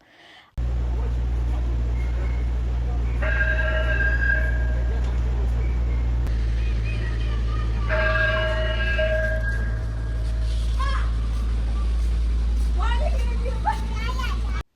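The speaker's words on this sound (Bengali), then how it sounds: "আইসক্রিম ট্রাকের এই শব্দটি তারা খুব ভালো করেই চিনে" An ice cream truck passes, playing a jingle of sustained melodic tones in two bursts over a steady low engine rumble, with brief children's voices near the end.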